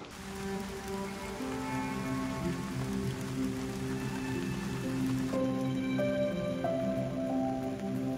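Rain falls at a lake as a steady, dense patter that holds an even level throughout, with faint tonal background hum and no talking.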